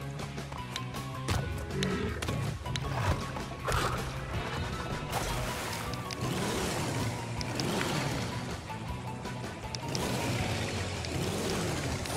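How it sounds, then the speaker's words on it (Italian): Roaring engine and crashing splashes of a jet ski cutting across water in Crash Bandicoot N. Sane Trilogy, with game music and effects, loud and continuous. "Lo so come si usa il moto d'acqua, grazie,"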